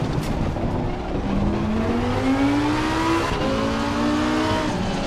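Race car in Assetto Corsa Competizione pulls out of the pit lane, its engine droning loudly and climbing steadily in pitch through first gear, with a gear change partway through and road rumble underneath.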